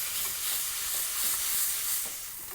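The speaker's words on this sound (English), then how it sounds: "That sizzle is exactly what you want to hear" Ground beef for smash burgers sizzles loudly in a hot pan, a steady bright hiss and crackle that holds for the whole moment with no talking.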